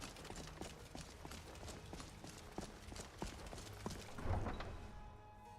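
Horse hooves clip-clop in a steady walking rhythm inside Skyrim, moderately close and fairly quiet, playing alone over soft game ambience with no talk.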